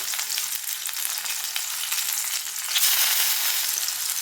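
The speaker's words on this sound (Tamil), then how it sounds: "இப்போ எல்லா சைடும் கோல்டன் ப்ரௌன் வரைய வறுத்து எடுத்துப்போம்" Vanjaram fish fries in hot oil with a loud, dense, continuous crackle that swells a little partway through as the pieces are turned.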